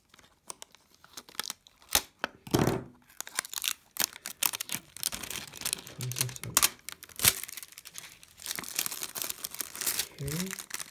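Packaging torn open and crinkled while unboxing a stainless steel bolt action pen with a Swiss Army knife, with sharp ripping bursts and rustling under intermittent nearby talk.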